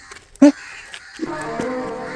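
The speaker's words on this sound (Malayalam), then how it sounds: "കാക്ക വന്നു നടക്കുന്നത്." A crow gives one loud, close caw, then a person begins talking over quiet surroundings.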